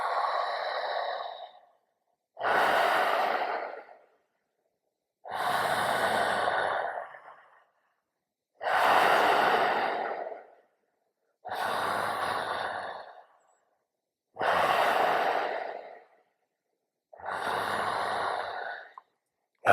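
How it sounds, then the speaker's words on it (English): Conscious connected breathing through the nose, in seven strong, evenly spaced breaths of roughly two seconds each with short pauses between. Each is loud and close, with no talk. "Now, I encourage nose breathing here"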